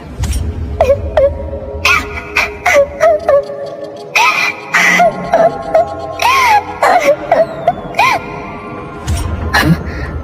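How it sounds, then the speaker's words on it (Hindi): A cat in a cartoon cries with a high, wavering whimper repeating in short bursts over a steady low hum, with brief sharp clicks between the cries. "ये रोने की आवाज कहाँ से आ रही है?"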